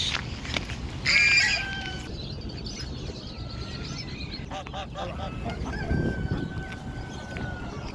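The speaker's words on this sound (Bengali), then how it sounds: "রাজা হাঁস।" A goose honks a few times amid clucking poultry and general bustle at a pigeon market in Kuwait, the calls fairly close and clear.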